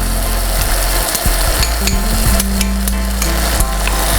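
Pancake batter for a bulgogi salad jeon is stirred in a bowl, with quick scraping and clinking strokes over a loud continuous sizzle of frying in a pan.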